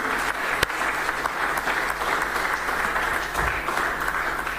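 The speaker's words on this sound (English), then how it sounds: "another round of applause for the Chief Executive" An audience at a public forum applauds continuously, many hands clapping together in a dense, steady burst of moderate loudness.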